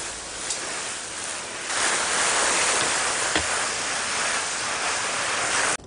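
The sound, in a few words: watering a raised garden bed, soaking it with water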